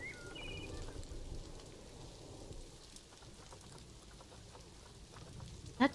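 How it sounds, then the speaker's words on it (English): Rain falling in a zoo-building video game, a steady moderate patter with a low rumbling undertone, and a couple of sharp interface clicks right at the end. "It's raining here."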